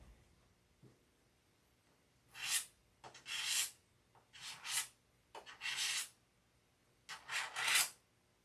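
Wet-and-dry sanding with 1000 grit sandpaper produces a series of brief rasping strokes, grouped in bursts of two or three with quiet gaps between them.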